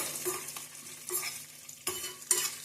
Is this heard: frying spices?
yes